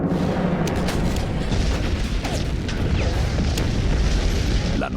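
Gunfire at an arsenal, a dense rumbling barrage with repeated booms and sharp cracks running continuously and loud throughout.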